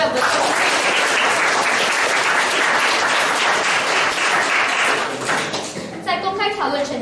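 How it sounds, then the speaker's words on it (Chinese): An audience at a Chinese-language school debate competition in Malaysia bursts into loud, sustained applause for the judges, dense clapping filling the hall for about five seconds before fading as a voice begins speaking. "以热烈掌声感谢评审为我们做出"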